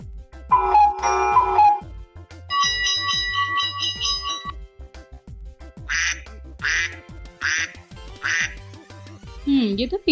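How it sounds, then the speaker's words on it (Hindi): Several short, nasal duck quacks in a quick series, mixed with bell-like electronic tones and other brief effects, fairly loud and close. "ये तो बतख की आवाज है।"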